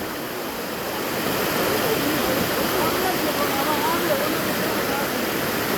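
Spring water gushes steadily at its source in the Muzur valley's Kırk Gözeler springs, a loud continuous rushing like a small waterfall, close and unbroken throughout.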